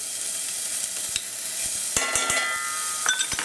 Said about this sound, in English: I'm going to add the shallots. I'm going to add a little bit of the butter.